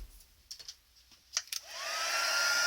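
A preheated craft heat tool blows hot air while a Christmas gift card treat pouch is being made, a few short taps and clicks coming first before the steady whoosh rises and holds, fairly close.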